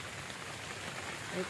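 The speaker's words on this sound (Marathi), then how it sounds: "पावसाने आज परेशान करून टाकला एकदम." Rain falls in hilly countryside as a soft, even hiss of drops throughout a brief, quiet stretch.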